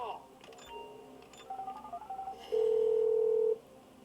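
Phone keypad tones in GTA 5: a run of quick dialing beeps followed by one long sustained tone, heard alongside game sounds and people talking.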